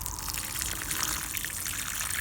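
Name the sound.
water from a hose running over hoed garden soil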